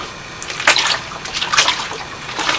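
Clothes are plunged up and down in water inside a plastic storage bin, giving close sloshing splashes in a few uneven surges over a steady watery hiss.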